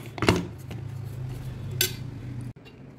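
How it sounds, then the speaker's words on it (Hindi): A metal spoon scrapes and clinks against a pot, pushing leftover almond mixture into sugar syrup, with a sharp clatter at the start and a second scrape later over a low steady hum. "इसमें रह गया है, इसको हम चम्मच से निकाल लेंगे।"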